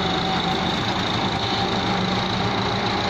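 An IMT 577 tractor engine runs steadily at close range with a continuous, even mechanical drone and a faint rattling vibration throughout, with no speech.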